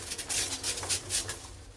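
Kalsira pigeons coo in a soft, repeated pulsing rhythm, close by and fairly quiet, with a faint rustle underneath.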